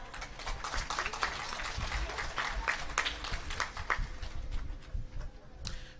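A crowd at a graduation ceremony claps for a graduating student, a steady wash of applause from many hands, fairly close and sustained throughout with no talk over it.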